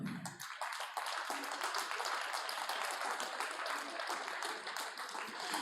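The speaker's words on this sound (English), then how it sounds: "So applause for the winners." An audience at a startup competition area applauds the winners, a dense, steady wash of many hands clapping that holds evenly throughout, fairly close and with no talk over it.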